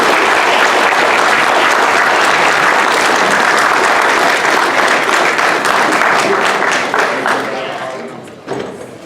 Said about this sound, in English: Y'all give them a huge round of applause.